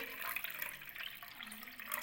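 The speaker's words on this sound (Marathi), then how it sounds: "ताक जरासं जास्त आंबट आहे त्यामुळे याच्यात पाणी घालून घेते" Water being poured into sour buttermilk in a home kitchen, a soft steady trickling splash that runs the whole time at low, close volume with no talk over it.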